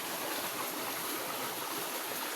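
Rushing water of the Laya River in Candulawan, Talisay City, Cebu, a steady broadband stream roar filling the whole clip with no breaks, close and continuous.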